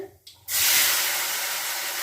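Mustard seeds dropped into hot oil for a Kerala-style pepper chicken, bursting into a sudden, loud, steady sizzling hiss after a brief quiet moment, close up.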